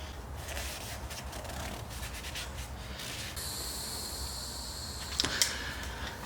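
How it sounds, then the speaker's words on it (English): Towels rubbing and wiping over an engine pulley give close, repeated scrubbing strokes, with a brief higher squeak or rattle near the end and no talk. "we're just gonna go ahead and wipe everything down again"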